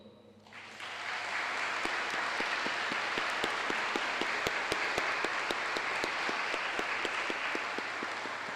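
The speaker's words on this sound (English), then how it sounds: "please give a round of applause" Sustained applause at an army change of responsibility and promotion ceremony, a dense crowd of clapping swelling in after a quiet start and holding steady, with sharp individual claps standing out.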